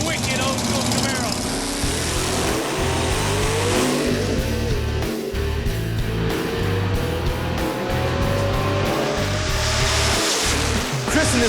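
Old-school Camaro and Trans Am drag cars at Memphis Motorsports making an 8-second quarter-mile pass, engines roaring loud and continuous with rising pitch as they accelerate, broadband rumble filling the whole stretch with a voice over it.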